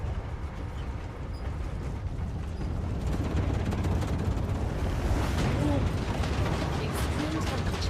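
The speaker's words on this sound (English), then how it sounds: "Eruption has started." A volcanic eruption in the survival factory-building game StarRupture, a deep, continuous rumble with crackling bursts that grows louder and denser partway through and holds near and heavy to the end.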